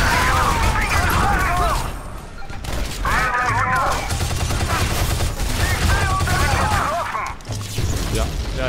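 Repeated gunfire-like blasts and explosions from the action video game Shadow Complex Remastered, dense and loud throughout, with a voice commentating over the bursts.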